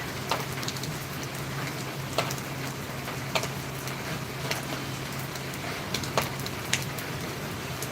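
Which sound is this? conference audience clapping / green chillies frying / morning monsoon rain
morning monsoon rain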